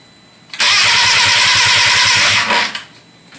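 A Volkswagen Corrado engine cranking loudly on startup, a close rhythmic starter churn lasting about two seconds before cutting off, without catching and running.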